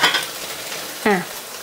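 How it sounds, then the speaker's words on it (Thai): A basil omelette frying in oil in a pan gives a continuous near sizzle, broken by a short scrape or clatter partway through, with no talking. "ทีนี้ก็ทอดไปเรื่อยๆจนอีกด้านนึงสุกค่ะ"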